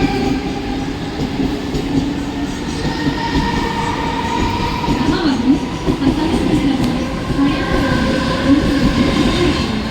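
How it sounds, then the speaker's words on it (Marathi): A fast local train bound for Badlapur pulls into an Indian railway platform with a continuous close rumble of wheels on track and thin squealing tones running through the ten seconds. "local arrived on platform number 3"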